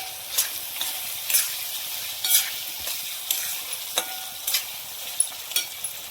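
Peas and cauliflower fry in a pan for veg biryani, a bright continuous sizzle punctuated by regular scraping stirs every half second or so, close and fairly loud.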